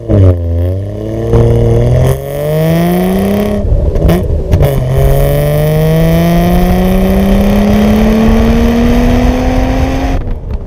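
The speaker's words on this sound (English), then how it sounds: "when you open up the V12, this car really does sing." Jaguar XJS V12 engine pulls hard through the gears from inside the car, its smooth loud drone climbing steadily in pitch, with a brief pause and shift before a long rising run.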